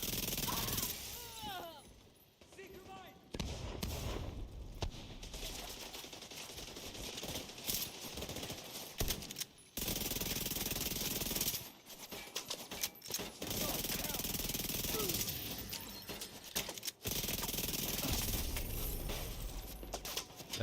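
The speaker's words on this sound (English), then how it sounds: "That guy's shooting me from the control point over there." Gunfire aimed at the player in a multiplayer shooter game, rapid bursts and rattling volleys filling most of the stretch with brief quiet gaps, while a voice talks over the battle.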